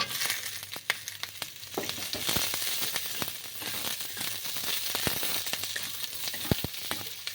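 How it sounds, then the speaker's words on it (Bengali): Capsicum pieces and large chunks of onion frying in a pan for chilli paneer, a steady close sizzle broken by sharp clicks and stirring knocks throughout. "এবার আমি এই ক্যাপসিকামের টুকরোগুলো দিয়ে দিচ্ছি।"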